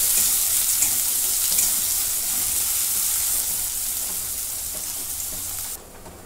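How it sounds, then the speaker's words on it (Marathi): Finely chopped onion frying in a pan gives a steady, bright hiss of sizzling oil that holds evenly for several seconds, then drops off abruptly near the end. "आणि हा कांदा घेतलेला आहे मी बारीक चिरून, तो टाकून घेते. कांदा मी भाजून घेते."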